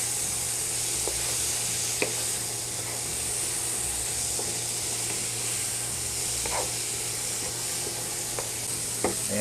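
Green beans sizzle steadily in a pan of butter and garlic, a constant broadband hiss with occasional soft clicks and stirring scrapes, close and even throughout with no talking.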